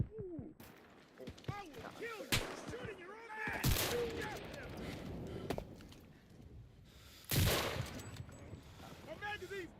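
Gunfire from a shooter video game, with bursts of shots, sharp loud blasts and an automatic volley amid game effects, while a voice talks over parts of it.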